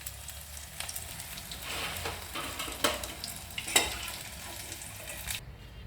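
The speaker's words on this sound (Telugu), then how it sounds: "కట్ బజ్జీ ఇలా ఫ్రై అయితే చాలు." Soft, steady bubbling sizzle of cut bajji, sliced chilli fritters, frying in hot oil, with a few sharper crackles and pops rising out of the hiss.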